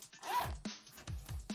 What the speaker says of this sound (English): Zip in front pocket here.